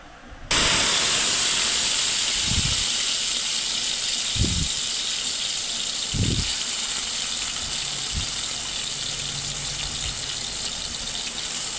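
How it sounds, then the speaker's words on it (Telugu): Potato pieces hit very hot oil in a pan, setting off a sudden loud, broad hiss that holds steady and slowly eases, with a few low thuds of pieces shifting. "ఆయిల్ బాగా వేడైన తర్వాత పొటాటో ముక్కలు వేశానండి"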